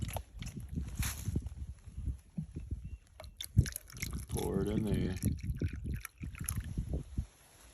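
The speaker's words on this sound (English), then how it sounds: "Pour it in there." Water is poured from a container into a vessel at a cold campsite, a short gurgling splash in the middle, with people talking around it.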